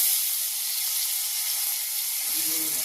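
Ginger paste hitting hot oil already seasoned with cumin and turmeric gives a steady, loud, close sizzle that holds throughout, with a faint low clink near the end and no voices.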